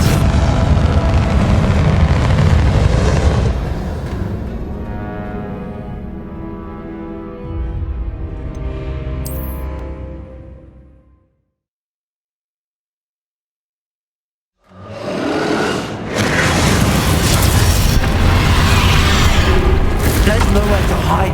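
Explosive spell blasts in the video game Hogwarts Legacy, loud booming bursts layered with rumbling and music, dropping to near silence mid-way before erupting again with heavy blasts.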